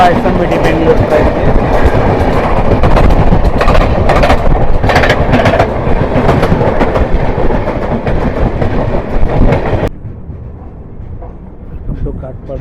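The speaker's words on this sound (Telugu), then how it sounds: "SMBT Bengaluru train" The Seshadri Express from SMVT Bengaluru rolls along with a loud, continuous clatter of wheels over rail joints. The rumble drops abruptly to a quieter, muffled run near the end.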